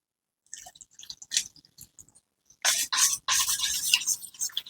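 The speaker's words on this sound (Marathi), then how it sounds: "डार्क चॉकलेट आणि बटर मेल्ट झालंय, त्यामध्ये मी आधी जॅगरी पावडर टाकते आणि हे कोमट दूध आहे ते टाकते" Warm milk and jaggery powder being poured into melted dark chocolate and butter for brownies, giving a run of soft wet squishing and stirring sounds, quiet and sparse at first, then a louder dense burst of liquid mixing.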